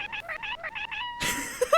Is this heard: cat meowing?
yes